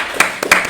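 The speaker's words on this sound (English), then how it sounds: "can we give them a very quiet round of applause?" A very quiet round of applause from a small group in a living room, a few soft scattered claps over less than a second, close and light.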